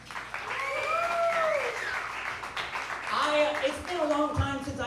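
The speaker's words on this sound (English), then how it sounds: "How about a nice round of applause for everyone you've seen?" An audience applauds at a comedy open-mic show at The Milk Parlor, with steady clapping throughout under voices and a few whoops.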